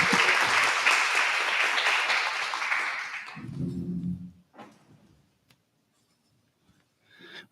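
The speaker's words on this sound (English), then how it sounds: "Round of applause for Danielle." Audience applause after a talk on social issues and business, a few seconds of dense clapping that fades out, followed by a low murmur and near silence.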